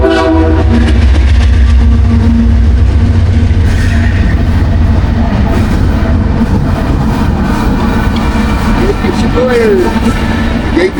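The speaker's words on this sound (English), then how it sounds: "I probably had to wait for this train to go by before you tell you the rest, because you can't hear nothing over top of it" A loud freight train passing close by on the tracks out of Kansas, a continuous heavy rumble and clatter of wagons with squealing wheel tones, filling the whole stretch without letup.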